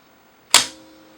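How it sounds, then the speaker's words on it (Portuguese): A film camera's shutter button is pressed for a one-second exposure, giving a single sharp mechanical snap close up, followed by a short fading ring in near silence. "Cliquei no botão do obturador e eu tenho a luz passando e atingindo o filme por 1 segundo"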